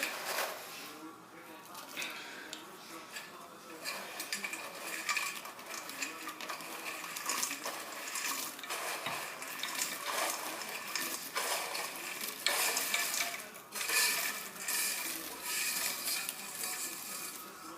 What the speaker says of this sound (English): now we're going to add all the biscuits into the nice chocolatey mixture